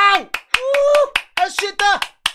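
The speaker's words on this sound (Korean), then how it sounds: "다 같이 박수 치면서 에너지를 끌어올리면서 시작할게요" Hands clap in a sharp, steady run of loud strikes, mixed with excited shouting and cheering voices as a Korean morning stock-market broadcast opens with group applause to build energy.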